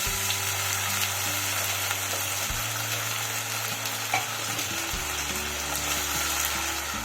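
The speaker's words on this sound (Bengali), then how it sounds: "পেঁয়াজটাকে খুব বেশি ভাজার দরকার নেই, এই অবস্থাতেই আমি দিয়ে দিচ্ছি বেটে রাখা যে মশলাটা সেটা।" Ground spice paste and onions fry in hot oil, sizzling steadily and close, with a low pan hum and occasional stirring scrapes underneath.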